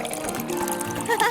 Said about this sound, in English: Looks like it's time to water our vase.